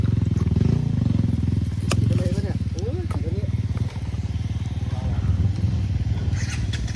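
Dirt bike engine revving on a rough trail as the rider twists the throttle, a loud close buzzing drone that rises and falls, with someone talking over it.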